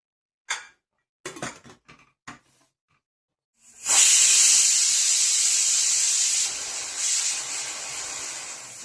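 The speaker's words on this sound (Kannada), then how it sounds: "ಇವಾಗ ಕುಕ್ಕರ್ ಮುಚ್ಚಿ 1-2 ಬಿಸಿಲು ಆಗಲಿ." A pressure cooker cooking lentils for Karnataka-style bassaru gives a few sharp clinks, then a loud sustained whistle of hissing steam that runs several seconds without pause.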